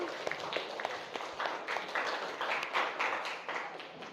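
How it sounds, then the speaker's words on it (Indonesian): Students in an Indonesian-language class clap together, a dense, steady patter of many hands at moderate distance lasting several seconds without a break. "tepuk tangan untuk kita semua"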